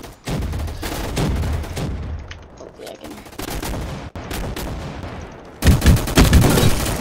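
Repeated shotgun blasts in a Roblox first-person shooter, loud and close, firing in a steady burst then a heavier cluster of shots near the end, with game noise throughout.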